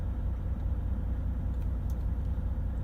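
A HYMIX Mixmaster 2 concrete mixer drum turning at 25% speed, giving a steady low mechanical rumble with an engine drone that holds even throughout, with no talking.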